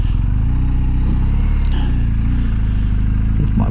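Adventure motorcycle engine idling or running at low revs nearby, a loud steady throbbing rumble with faint clattering and passing noises over it.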